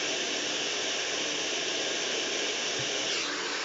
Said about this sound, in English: I have my hairdryer up full power and also mid-heat.